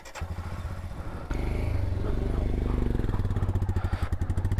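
A motorcycle engine revs up loudly and close by on a mountain road, its steady rapid pulsing chugging under a man's speech. The bike has a reported fault.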